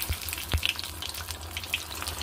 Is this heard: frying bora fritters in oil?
yes